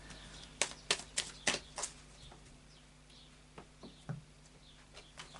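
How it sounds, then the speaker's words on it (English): Moonology Oracle cards being shuffled: a quick run of crisp, soft flicks and taps, quiet and close, then a pause before a few more scattered snaps. "So I'll just do a final shuffle of the Moonology cards, Moonology Oracle cards."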